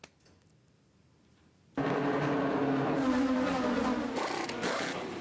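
Race car engine roaring on a track, a loud sustained drone that starts abruptly after a quiet opening and holds steady at close range, with no talking over it.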